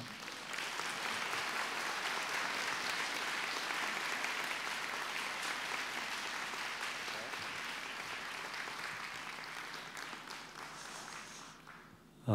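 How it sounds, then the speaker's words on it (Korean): A church congregation at a Korean service in Seattle bursts into loud, sustained applause to welcome a visiting pastor, a thick crackle of many hands that holds for about ten seconds before tapering off and stopping abruptly. "이 시간에 우리 목사님 나오실 때 큰 박수로 환영해 주시면 좋겠습니다."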